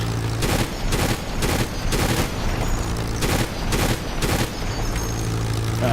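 Aircraft machine guns fire in a warbird combat video game, loud rapid bursts of several shots in a steady rhythm with short pauses between.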